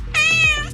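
A single clear, close cat meow, rising then falling in pitch, short and loud against a quiet background.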